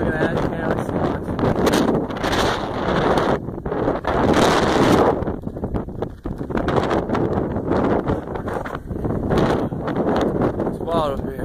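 Strong gusting wind buffets the microphone high on a Maine mountain near 3,500 feet in fog, a loud continuous roar with surges, while people talk over it.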